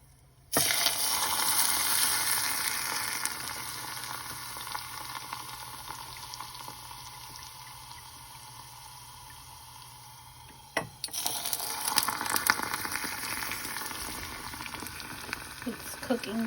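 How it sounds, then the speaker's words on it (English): Elephant garlic and rosemary sizzle and bubble in boiling olive oil, a dense steady crackling hiss close up that fades, pauses, then returns loud as the pan is stirred. "I just thought it was really cool how this bubbles and boils"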